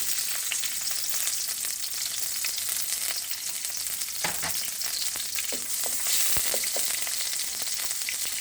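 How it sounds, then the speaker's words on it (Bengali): Chopped onions fry in hot oil for a snake gourd, teasel gourd and egg bhaji, giving a steady bright hiss with scattered crackles and a few stirring knocks, close by, with no talk. "তো তেলটা গরম হতে হতে আমরা এর মধ্যে এখন প্রথমে পেঁয়াজ কুচিগুলো দিয়ে দিব"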